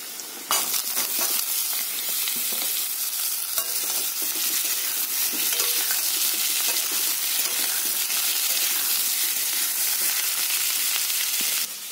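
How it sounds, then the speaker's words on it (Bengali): Potatoes and chunks of young jackfruit fry in hot oil in a wok, a loud, continuous sizzle with frequent scraping and clinking of the stirring spatula throughout, close and without speech. "এঁচড় আলুটা খুব ভালো করে ভাজা হয়ে গেছে"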